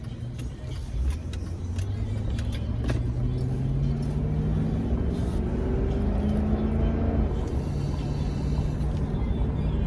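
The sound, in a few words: car driving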